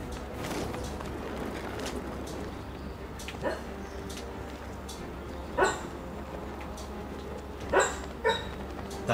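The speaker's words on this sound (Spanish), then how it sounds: "Aquí el perro con las pesadillas." A dog in Batman: Arkham Knight gives a few short, sharp barks and yips over a low, steady background rumble, spaced apart and moderately close.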